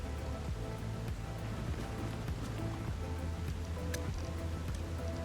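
Steady rain in the survival city-builder game Endzone 2, a constant, even patter of drops falling on surfaces with no voices over it.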